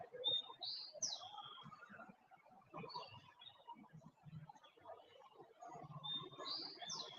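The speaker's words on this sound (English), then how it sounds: "Just kicking it, listening to the birds chirp" Faint birds chirp outdoors, a few high tweets near the start, middle and end over a quiet, low background rumble.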